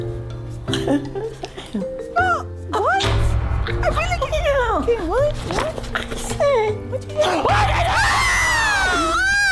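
A person yells loudly, right up close, into someone's ear. Repeated strained shouts and screams rise and fall in pitch over roughly ten seconds, with some voiced exclamations mixed in.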